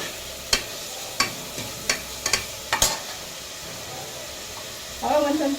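Turmeric powder and green chillies frying in a pan for fish curry, with a series of sharp spoon scrapes and clinks against the pan over a low background, ending in a brief louder sizzle.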